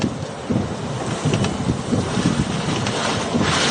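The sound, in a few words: strong wind gust during Hurricane Helene landfall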